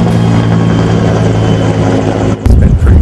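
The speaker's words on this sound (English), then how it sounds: "Half a dozen helicopters and more than 300 firefighters worked to battle fires in the Applegate." Firefighting helicopter flying over lightning-sparked fires in the Applegate, a loud continuous rotor and engine drone holding steady and close before a brief dip and a heavier low thump near the end.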